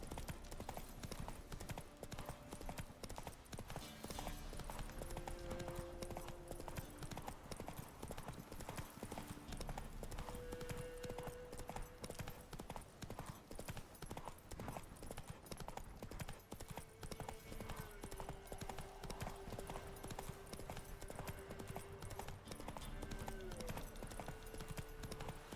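Roach, the horse in The Witcher 3, gallops with a continuous rapid clip-clop of hooves, steady and close, alongside faint tonal game sounds and an occasional whinny.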